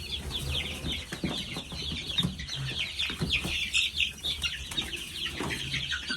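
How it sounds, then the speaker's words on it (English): Chickens clucking steadily through the clip alongside young chicks being moved from a brooder into a coop during a thunderstorm, with rustling and handling noises close by and the birds fairly near. "Rooster."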